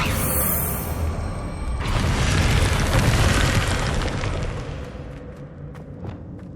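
Confringo blasting spell exploding in Hogwarts Legacy: a deep, loud boom swells after a bright magical shimmer, rumbles for a few seconds, then fades into a softer tail with faint crackles.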